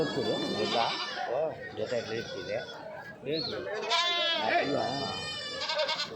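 Goats bleat repeatedly, loud and close, at the weekly Kadiri livestock market, their wavering cries overlapping with people talking throughout.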